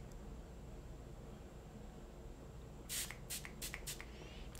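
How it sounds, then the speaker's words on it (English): Several quick bursts of Wet n Wild hydrating setting spray hiss out close by, about five or six short sprays in a row after a quiet stretch, with no talking. "we're gonna go in with the Hydrating Setting Spray."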